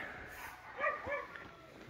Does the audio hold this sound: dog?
yes